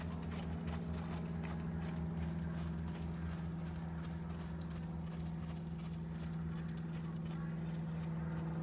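A horse trots around an arena, its hoofbeats a steady, rapid clip-clop throughout under a constant low hum, moderately distant and even in rhythm.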